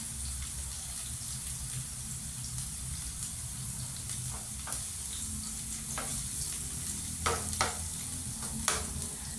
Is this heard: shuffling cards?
no